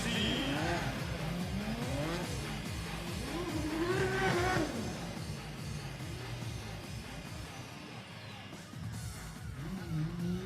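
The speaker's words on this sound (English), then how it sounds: "So Manuel Vaca in his BMW. Just a quick warm-up lap." A BMW drift car on a warm-up lap at an international drifting cup event, its engine revving up and down in rising and falling sweeps, with tire noise and a steady roar under crowd or commentary ambience.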